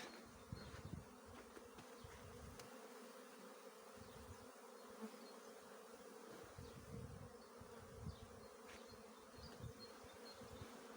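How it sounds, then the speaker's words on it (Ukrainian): Honeybees buzz steadily around a hive entrance on a fair day after cold, rainy weather, young bees taking orientation flights; a dense, continuous drone fills the air with individual insects passing close now and then. "бджілки працюють славно, ще вийшла молода бджілка на обліт"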